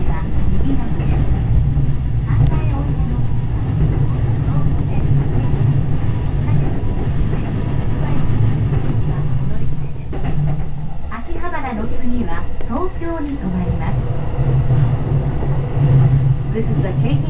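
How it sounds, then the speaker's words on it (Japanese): A Keihin-Tohoku Line rapid service train heading toward Akihabara rumbles steadily from inside the carriage. A recorded announcement plays over the low running noise, and the wheels and track shift partway through. "This is the Keihin Tohoku Line Rapid Service Train for Ohuna."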